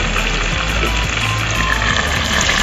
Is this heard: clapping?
no